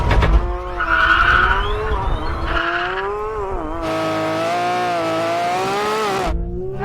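Sports cars, including a Porsche 911 GT3 RS and a V12 Lamborghini, launch in a drag race, engines revving and rising in pitch with a tire squeal, loud and close over nearly seven seconds.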